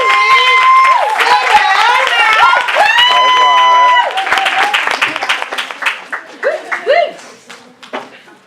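A crowd at a rehab center event applauds and cheers for Ashley, loud clapping mixed with whoops and high excited voices, thinning into scattered claps and shouts toward the end.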